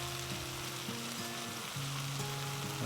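Cornstarch-coated beef sears in a hot pan with a constant crackling sizzle, close and moderately loud, over a faint low hum.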